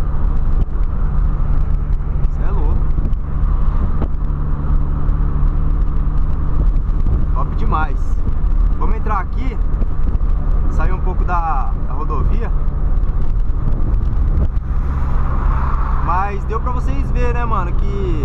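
Lowered VW Polo Sedan cruising on a highway, with a constant low engine and road drone inside the cabin while someone talks over it almost the whole time.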